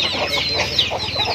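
Abuyo chickens cluck and chatter close by, overlapping calls repeating throughout the short stretch without speech.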